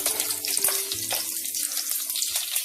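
Mustard seeds and curry leaves fry in hot oil for a Mangalore-style chicken sukka, giving a steady loud hiss and crackle that runs throughout with no talking.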